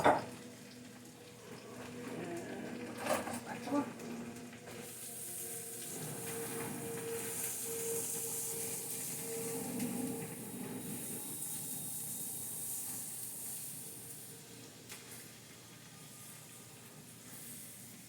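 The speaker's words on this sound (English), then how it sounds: "we're going to saute them" A cup of diced onions sizzles in two tablespoons of butter in a lidded pan, giving a steady, soft hiss with steam that swells and holds after a few seconds of quieter clatter.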